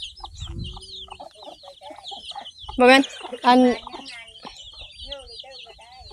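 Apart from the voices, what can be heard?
chickens clucking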